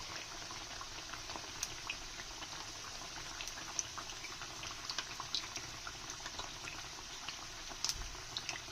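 Sindhi pakwan, a crisp flatbread, fries slowly in hot oil, giving a faint, steady bubbling hiss with small scattered pops and crackles, heard alone without talk.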